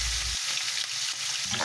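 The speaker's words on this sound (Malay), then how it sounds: "Goreng ikan sampai garing ya." Fish sizzles and crackles as it fries in hot oil until crispy while cooking a green chili sambal dish, steady bubbling at close range with a brief louder burst at the start and end, no talking.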